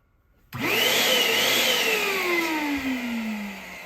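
A Mini Cool Air electric balloon inflator switches on abruptly and whines steadily while filling an 11-inch latex balloon, its pitch slowly falling as the balloon stretches, close and alone.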